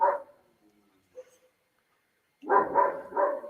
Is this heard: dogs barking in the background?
yes